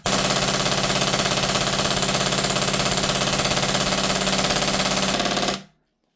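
A TAPP hybrid HPA AAP-01 airsoft pistol fed from a PTS magazine fires on full auto in one loud, steady, rapid burst of about five and a half seconds, then cuts off abruptly into silence.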